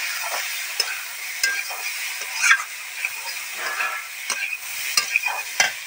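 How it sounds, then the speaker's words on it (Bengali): Soybean chunks for an egg and soybean curry frying in a pan: a steady close sizzle broken by repeated scrapes and taps of a spatula stirring, with no talking. "এখানে আমার আবার সয়াবিনটা কষানো হয়ে যাচ্ছে"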